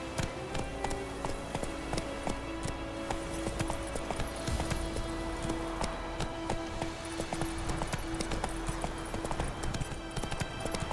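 Hooves of the horse Roach clip-clop in a fast, steady galloping rhythm in The Witcher 3, layered over continuous game ambience and a faint music-like drone.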